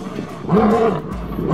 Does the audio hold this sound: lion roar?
yes